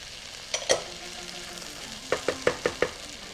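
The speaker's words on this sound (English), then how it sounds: "it will start crisping the rice, like making it fried rice" Kimchi fried rice with soybeans crisping in a hot pan, a low steady sizzle broken by a few sharp scraping stirs and a quick run of five spatula taps near the end.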